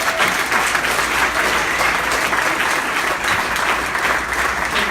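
A seated audience at a panel talk on entrepreneurship gives a loud, dense round of applause that stays steady and unbroken throughout.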